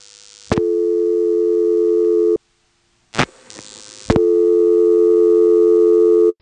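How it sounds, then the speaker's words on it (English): A handset picks up with a click and a steady tone starts, cuts out, then a brief buzz is followed by a loud continuous dial tone on a 1977 step-by-step director telephone exchange. "there's a buzz that comes on the line halfway between picking up and getting the dial tone"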